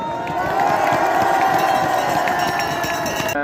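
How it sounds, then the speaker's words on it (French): Outdoor biathlon World Cup crowd at Annecy Le Grand-Bornan cheering and making noise in a loud, steady roar that holds for several seconds, with voices mixed into the din and a sharp cut at the end. "Vous pouvez vraiment vous applaudir très fort"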